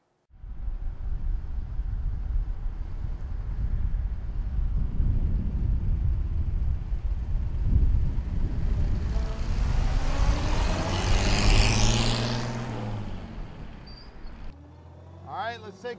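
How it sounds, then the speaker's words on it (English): A 1932 Chevrolet street rod with a small straight-six engine drives along, its low engine rumble rising and falling with a surge in the middle before easing off, with road and wind noise around it. "That little straight six is making power."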